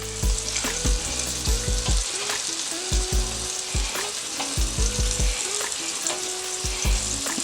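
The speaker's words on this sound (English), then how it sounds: "We're going to take the good old smoked sausage, just throw it right down on the grill" Smoked sausage sizzles on a hot grill, a loud steady hiss of frying fat carrying through the whole stretch, punctuated by repeated low thumps and clanks of a utensil against the cooking surface.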